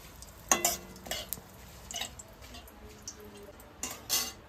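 Bay leaf and cumin tempering in hot oil, a soft low sizzle broken by several sharp metallic clinks of a spatula against the pan, close and fairly quiet with no speech.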